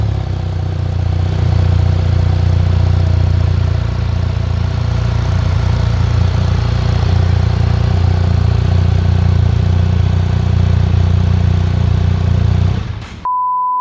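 A 2024 BMW R 1300 GS motorcycle engine runs at a steady idle, a loud continuous low hum heard close for about thirteen seconds before it cuts off abruptly with a short beep at the end.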